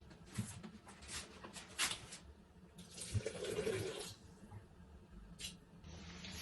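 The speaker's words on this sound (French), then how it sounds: "je vais ajouter 200 g d'eau" Water poured into a Thermomix bowl while making veal paupiettes with vegetables, a soft, close trickling and splashing in uneven bursts, faint and alone.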